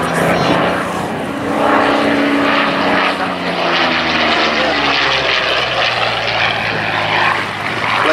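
A Curtiss P-36 type propeller plane, predecessor of the P-40, drones loudly overhead at the Duxford airshow, its engine pitch sliding downward as it passes, with the steady roar filling the whole stretch.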